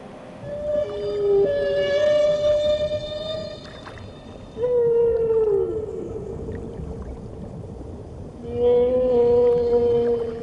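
A humpback whale migrating toward the Coral Sea sings long, loud, moaning tonal calls that rise and fall, some sliding downward, over a steady rushing underwater background.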